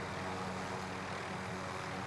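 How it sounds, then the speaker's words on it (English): A helicopter drones steadily overhead in a military shooter game, a continuous rotor and engine hum that stays even and fairly loud throughout with no talk. "Oh no, there's a chopper there."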